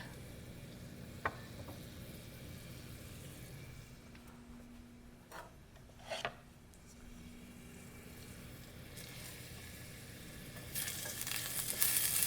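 Onions frying in a pan: a faint, steady sizzle with a couple of brief scrapes or taps, quiet and close, growing slightly louder toward the end.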